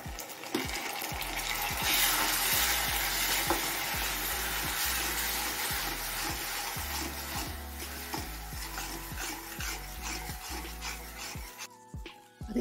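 Jaggery with two spoons of water is heated and stirred in a hot kadai. A spoon scrapes the pan in a steady rhythm of repeated strokes over a continuous soft sizzle, close and moderately loud, with no talking.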